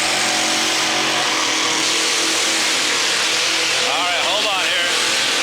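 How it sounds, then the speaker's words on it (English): A Cadillac demolition derby car with a broken axle revs its engine hard and loud, a continuous roaring drone that dominates the clip, with a brief rising whine near the end. "who the hell's revving their motor up so hard?"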